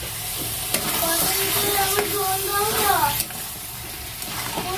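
Chicken korma with cashew and poppy seed paste sautés in a pan, giving a steady close sizzle while a person talks over it for much of the stretch.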